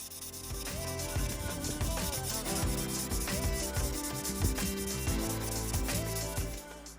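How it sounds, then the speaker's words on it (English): A fine 3000 grit sanding sponge rubs steadily over a Lamborghini Huracan EVO model car body, a close, continuous scratchy back-and-forth sanding with no voices. "moved on to sanding it even smoother, removing some of the dust that might have fallen into it with a 3000 grit sanding sponge"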